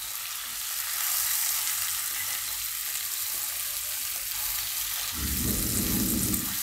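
Okra (bhindi) sizzles steadily in a hot pan for dahi bhindi, with a louder burst of frying and stirring scrapes toward the end, close and continuous with no talk.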